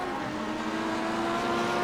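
An Audi race car drives past at the Nürburgring 24 Hours endurance race, its engine holding a loud, sustained, steady drone.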